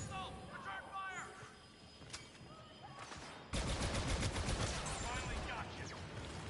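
Rapid gunfire from Star Wars Battlefront 2 erupts halfway through, a dense sustained burst of shots filling the second half, with voices and scattered game sounds before it.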